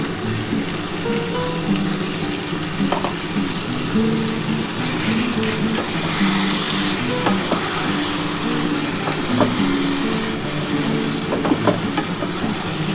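Chicken sizzling loudly in a hot pan as masala goes in, a continuous close frying hiss with occasional stirring clicks and scrapes, no talking.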